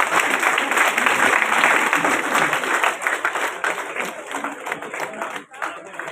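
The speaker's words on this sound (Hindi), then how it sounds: "सभी उपस्थित महानुभावों से निवेदन है कि तालियां बजाएं" Loud applause from a crowd at a ceremony in Udaipur where a sword is presented to an honoured guest, sustained dense clapping that swells early and then tapers with scattered claps, with voices mixed in.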